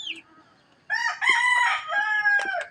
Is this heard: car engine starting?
no